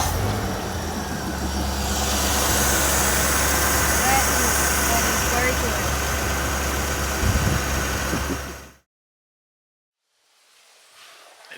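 A car engine runs loud and close with a steady, rumbling idle, then cuts off abruptly, leaving near silence with a faint background noise returning.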